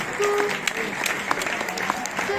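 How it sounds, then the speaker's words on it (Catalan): Audience applause at a jazz band event in Matadepera, a steady broadband patter of many hands lasting the whole stretch, with a voice faintly audible underneath. "Un aplaudiment també per la Vero."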